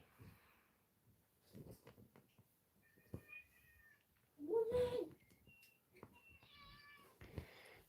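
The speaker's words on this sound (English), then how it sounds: "this cat's getting impatient." A cat meows several times in short, insistent bursts, close by in a quiet indoor room. Soft background noises fall between the calls.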